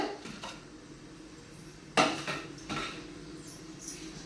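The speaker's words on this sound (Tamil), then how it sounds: "தேங்காய் திருவிக்கோங்க" Fresh coconut scraped by hand for beetroot poriyal in a home kitchen, giving a few short scratchy grating bursts with light clinks against a quiet background.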